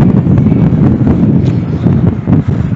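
Strong wind buffets the microphone in Blackpool after rain, a steady, loud, rumbling roar that barely lets up.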